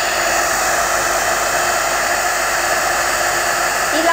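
A hot-air hair dryer brush running on its lower of two speeds gives a steady, continuous whoosh of blowing air close up, unchanging in level throughout with no talk.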